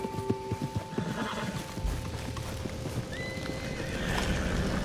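A horse whinnies amid hoof clops and a busy soundscape in Red Dead Redemption 2, with a high rising tone and a swelling rumble near the end.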